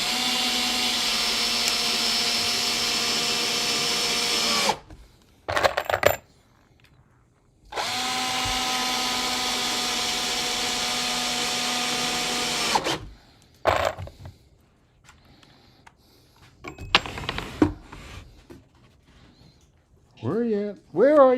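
A power drill drives screws into wooden hive stands in a workshop, running in two long sustained bursts with short whirring pulses and clunks between them, close and loud, with a few scattered sounds after.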